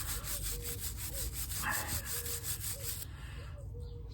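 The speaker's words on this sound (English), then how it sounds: "clean it up with my little brush" Small brush scrubbing the rear brake parts of a Yamaha FJR motorcycle during a brake pad replacement, a steady close rasping rub with rhythmic strokes that stops near the end, no talking.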